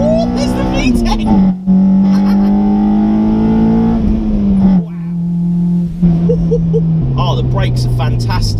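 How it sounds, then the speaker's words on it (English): A modified Honda Civic EP3 Type R pulls hard in second gear on an open road, its engine note climbing steadily and hardening as VTEC engages, then dropping through shifts with brief lifts; loud, close, in-car perspective. "I'll put her in second and we'll see how she goes. Ooh, there's the VTEC!"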